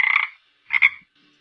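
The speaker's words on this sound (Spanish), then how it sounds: "Rana." Two short, bright croaks from a frog, one at the start and another a moment later, each loud and close with silence between them.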